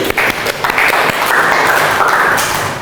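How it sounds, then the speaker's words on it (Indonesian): Audience applause at a teachers' coaching and academic supervision session, a dense, steady burst of clapping lasting a few seconds, close and loud. "Tepuk tangan dulu"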